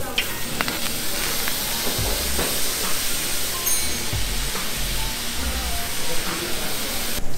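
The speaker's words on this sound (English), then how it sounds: "We have our dessert right here, the sizzling brownie" A sizzling brownie on a hot pan at a restaurant gives a loud, continuous sizzle and hiss, steaming and crackling up close, with occasional low thumps and faint voices in the background.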